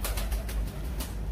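Kalsara pigeons at a pigeon loft make faint cooing and soft fluttering sounds, a few quiet bursts over a low background rumble.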